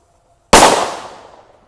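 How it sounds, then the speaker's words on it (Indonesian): A Sunflower firecracker set off in water bursts with one sudden, loud, close crack that rings out and fades over about a second after a near-silent lead-in. "ini ada mercon yang beledosnya banter ya. Namanya Sunflower. Kita nyalakan di dalam air."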